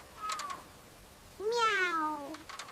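A small cat gives a couple of meows, a short high one followed by a longer rising-then-falling cry, close and fairly quiet.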